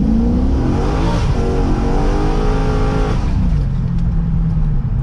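A tuned Chevrolet C6 Corvette revs hard on a ramp as its wheels spin, a loud, continuous engine roar climbing and then settling, close and steady with no talk.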